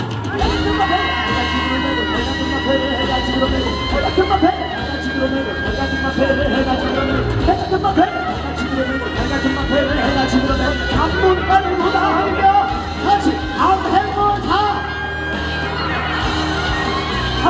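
Festival concert crowd at a Korean university festival, cheering and shouting throughout while traditional gugak singing and band music play loudly, with voices whooping over a dense, continuous roar.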